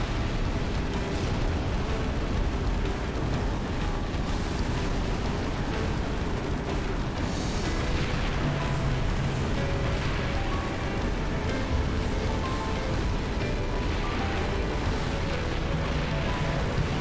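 A Scarab war machine blowing apart in Halo 3, a sustained roaring blast with crackling debris and rumble that stays loud and dense, breaking up through several stages.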